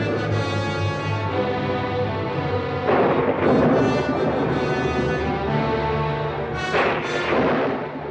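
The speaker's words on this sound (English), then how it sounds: "there is a thunderstorm that sends Marnie into a panic attack" A thunderstorm from the 1964 film Marnie rumbles over a sustained tonal backdrop. Two heavy, broad claps of thunder break in midway and near the end, each swelling and lingering.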